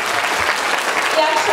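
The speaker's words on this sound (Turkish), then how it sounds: "Öğrencilerimiz, öğretmenimiz ve kendimiz için kocaman bir alkış." A school reading festival crowd applauds students and their teacher, a dense, steady clapping that fills the whole short moment at close range.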